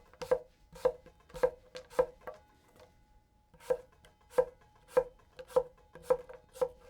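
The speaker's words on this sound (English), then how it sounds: "let's do a little push chop here" A Takamura SG2 Migaki gyuto knife push chopping on a cutting board, about a dozen crisp, evenly spaced knocks in two runs separated by a short pause, close and clear.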